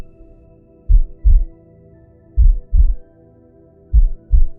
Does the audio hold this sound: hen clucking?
no